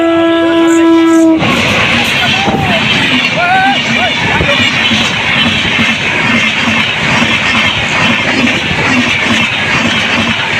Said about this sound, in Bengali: এখন ট্রেনটা চলে এসেছে।